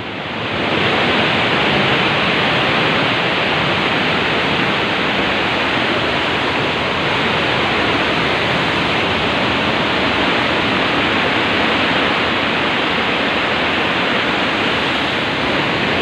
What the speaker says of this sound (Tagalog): Lakas ng tubig.